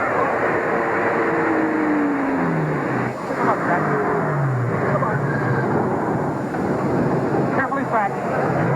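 A car pulls up in an old-time radio drama: a steady engine rumble with rising and falling pitch sweeps as it approaches and slows, with voices speaking over it.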